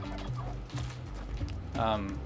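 Turkeys gobble in the video game Spelunky 2, a few short warbling gobble calls spread across the moment, the last one loudest, set against game sounds.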